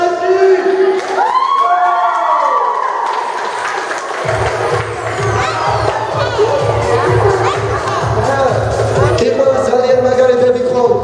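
A crowd at a celebration applauds and cheers, with loud sustained clapping, whoops and children shouting that fill the whole stretch, close and dense.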